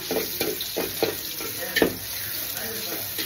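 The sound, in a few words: onions frying in a pan for polao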